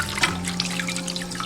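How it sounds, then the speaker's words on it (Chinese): Sea bass being rinsed under a running kitchen tap, a steady close wash of water splashing and trickling into the sink, with a low hum underneath and no one talking. "再把鲈鱼清洗干净"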